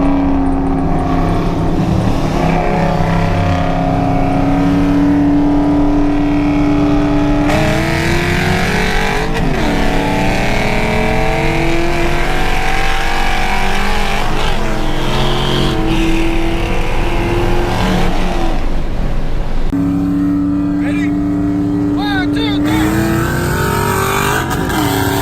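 Loud engine roar from a nitrous-equipped Mustang street racing, with sustained high revs, gear changes and rising pitch sweeps, other cars passing close, no talking.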